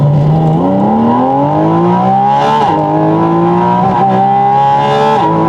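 Porsche GT4 RS engine revving loudly and steadily close by, the pitch climbing in rising sweeps, dipping briefly and climbing again with no break over several seconds.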